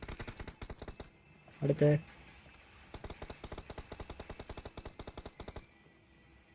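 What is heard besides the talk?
gunfire in the video game BGMI (PUBG Mobile)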